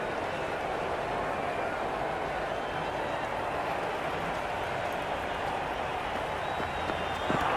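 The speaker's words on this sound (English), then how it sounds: "It's evident and ever so audible that the crowd is at near bursting point at today's play." Crowd at the MCG cheering throughout a Pakistan vs India match in the Cricket 26 video game, a steady broad roar that holds at constant loudness for the whole stretch, with no talk over it.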